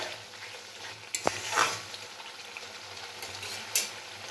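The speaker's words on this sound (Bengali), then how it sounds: "এবার দেব টমেটো কুচি খুব ভালোভাবে মশলাটা কিন্তু কষিয়ে নিতে হবে" Spice masala frying with chopped tomato, a continuous close sizzle broken by a few clinks and scrapes of a spoon stirring against the pan.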